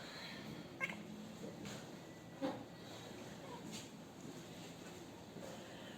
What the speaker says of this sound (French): Je vous présente mon chat.